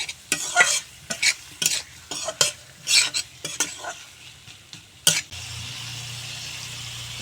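Fried potatoes tossed with spice masala in a pan for a bhindi aloo curry, giving a run of sharp spatula scrapes and sizzling bursts, then a steady low sizzle near the end, with no talk.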